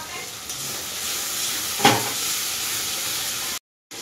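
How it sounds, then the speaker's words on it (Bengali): Spice paste for a green jackfruit curry sizzles steadily in a pan, a soft continuous fry with one brief louder burst midway, then a short cut to silence near the end. "মশলাটা ভালো করে ভেজে নিতে হবে।"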